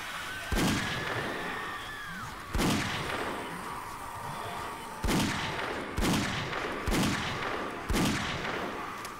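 Gunfire in the 7 Days to Die video game, shooting zombies down through a maintenance hatch: six sharp, booming single shots spaced about one to two seconds apart, each with a short echoing tail over steady background hum.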